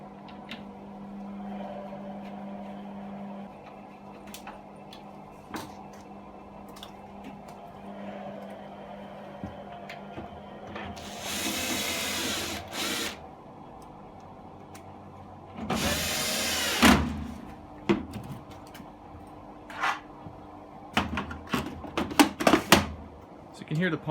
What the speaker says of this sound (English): I'm just going to screw the things back together